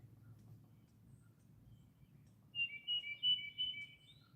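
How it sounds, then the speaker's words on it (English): Outdoors, birds chirp in a short run of repeated high calls over a low, steady background rumble, with no one talking. "the birds are totally out, Daryl."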